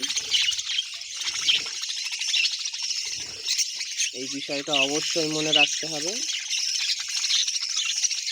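Budgerigar chicks in a nest give a cluster of harsh, raspy begging squawks, close and clear, in a short run of repeated calls. Someone talks over the chirping, and faint insect-like trilling sits in the background.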